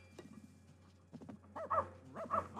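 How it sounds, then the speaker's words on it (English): A dog gives a couple of throaty barks or yelps in the background after a quiet opening with faint low hum. "you might hear a dog barking in the background"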